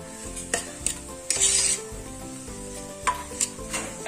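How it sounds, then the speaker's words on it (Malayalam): Onion and garlic sautéing in hot oil for an Arabian chicken dish, close sizzling broken by repeated scraping stirs and metallic clinks of a spatula against the pan, no speech. "ഉള്ളി വഴറ്റിയതിന് ശേഷം അതിലോട്ട് വെളുത്തുള്ളി ചേർത്ത് കൊടുക്കുന്നു."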